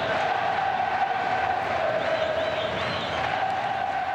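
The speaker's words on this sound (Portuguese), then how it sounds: "Mais de 40 mil pessoas, festa da torcida tricolor" More than 40,000 Fluminense supporters celebrate in the stadium at a 2004 Campeonato Carioca match against Madureira, a dense, steady crowd roar with a sustained horn-like drone running through it.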